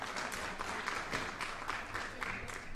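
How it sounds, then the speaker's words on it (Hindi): Studio audience applause for a guest on a Hindi TV news stage show, a fairly quiet but steady wash of clapping lasting a few seconds with no speech over it. "तालियां बजती रहनी चाहिए रेणुका जी के लिए"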